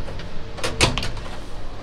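The door of a 1949 Chevrolet COE truck with custom hinges and bear claw latches shuts with a single solid clunk near the middle, close by, over a quiet background hum.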